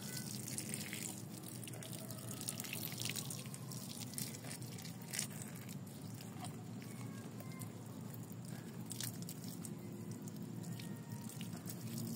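Water is poured over bonsai trees outdoors, producing a faint, steady stream of splashing and dripping with scattered small taps and patters, continuous throughout.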